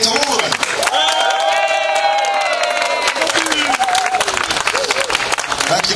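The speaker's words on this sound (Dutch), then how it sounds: "dat applaus was voor jou" An audience applauds and cheers loudly for about six seconds, a dense wash of clapping with whoops, while music and a voice carry on over it.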